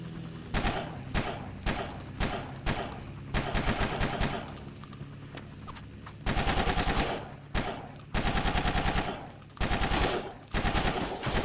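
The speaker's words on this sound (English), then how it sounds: "So let's just lay down some more suppressing fire" Sustained machine-gun suppressing fire in Battlefield Vietnam, loud rapid bursts repeating in quick succession with brief gaps between volleys and a steady battlefield din underneath.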